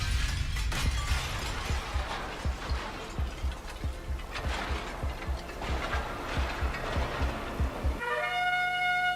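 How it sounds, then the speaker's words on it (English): A pane of glass shatters in a Channel 4 ident, heard as dense crashing and tinkling debris with repeated impacts over several seconds, ending in a sustained musical chord. "the concept is nothing more than a pane of glass shattering over the 4 logo"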